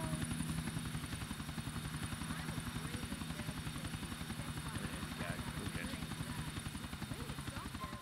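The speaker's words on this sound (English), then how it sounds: "What the hell do they want with this chopper?" A helicopter in the video game GTA4 beats out a rapid, even rotor chop with a steady engine whine above it, kept at a low, constant level for the whole stretch.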